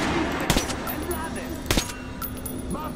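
Gunfire in the video game Metro Last Light, two sharp loud shots about a second apart over a mechanical background hum, with speech in the mix.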